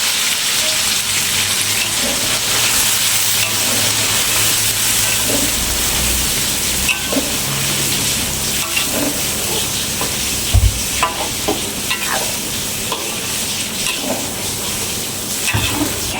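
Ingredients for beef sambal are sautéed in a pan, giving a loud, steady frying sizzle and hiss that runs throughout, with occasional stirring knocks and scrapes close by.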